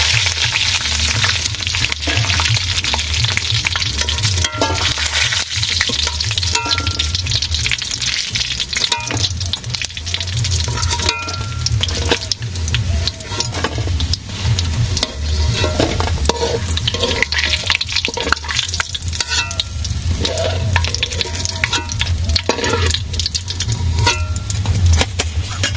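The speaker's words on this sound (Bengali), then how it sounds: "কড়া ভাজা হয়েছে।" Food frying in a pan over a village cooking fire, a loud continuous sizzle with stirring scrapes and crackles throughout, close up with no talking.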